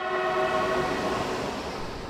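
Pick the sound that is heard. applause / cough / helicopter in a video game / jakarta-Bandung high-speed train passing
jakarta-Bandung high-speed train passing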